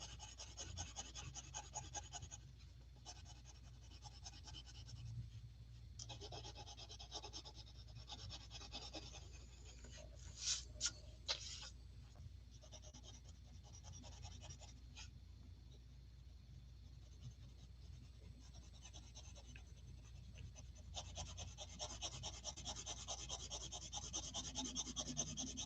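Light shading with a Stampin' Up watercolour pencil across paper, a steady soft scratchy rubbing that runs almost without a break, close and quiet, with a few sharper scrapes midway.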